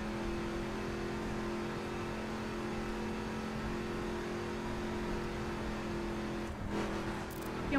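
A car engine in the racing video game The Crew holds a steady droning hum at speed, rising slightly in revs toward the end, with no one talking.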